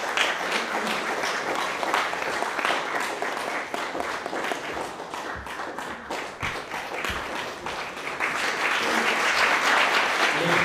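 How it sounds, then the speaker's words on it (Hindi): A theatre audience applauds the cast and crew after the Hindi play Jalebi, sustained loud clapping with some individual claps standing out, swelling stronger toward the end. "एक बार जोरदार तालियां हो जाए।"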